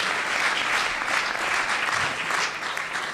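An audience applauds after a college lecture, a full, steady round of clapping from a sizable crowd, sustained throughout with no talk over it.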